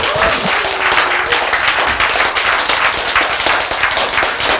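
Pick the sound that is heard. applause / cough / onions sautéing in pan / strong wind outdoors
applause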